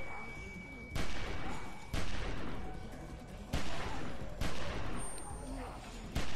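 Five loud gunshots ring out in The Walking Dead Season 1 Episode 4 video game, spaced about a second apart, each a sharp crack with a lingering echo over a background rumble.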